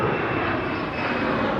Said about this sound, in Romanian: Avem avionul, aeroportul, chiar aici lângă noi.